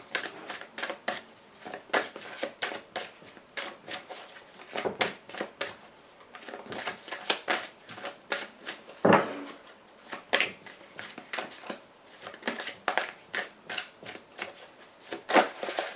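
Playing cards for a love tarot reading are shuffled and drawn, a long run of quick crisp riffling and flicking bursts, close and fairly quiet, with no talk.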